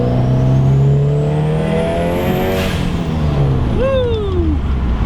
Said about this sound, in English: Let's hear this turbo spool up.